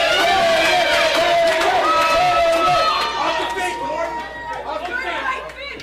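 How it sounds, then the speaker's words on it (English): A boxing crowd at a live fight chants for a fighter, a loud rhythmic mass of voices filling the arena and fading somewhat toward the end, with an announcer's commentary running over it. "The crowd again chanting for Hayden Jones."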